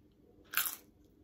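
A single sharp crunch of a homemade veggie nacho chip fresh from the oven, bitten once up close against a quiet kitchen background.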